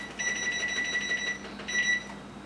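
A kitchen timer being set for 20 minutes during taco pie cooking gives a run of quick high electronic beeps, a short pause, then a final short burst of beeps, heard close and clear with no talk.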